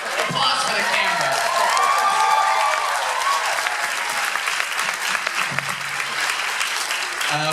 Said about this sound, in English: Applause for the camera.